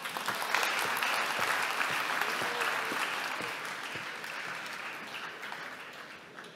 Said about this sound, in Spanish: Así que un aplauso fuerte para ella.